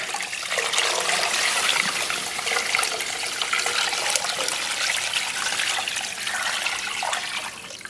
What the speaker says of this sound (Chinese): 然后咱们给锅里边稍微再来点水，让它没过食材。